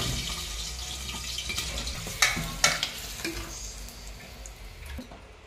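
Green chillies fry in hot oil in a kadhai, a steady close sizzle with a few sharp popping spits midway, then settling into a softer, even crackle.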